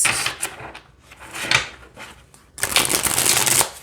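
Matte Lo Scarabeo tarot cards are shuffled by hand in quick riffling bursts. A short flurry comes early, a quieter pause follows, then a longer, louder stretch of shuffling runs to the end.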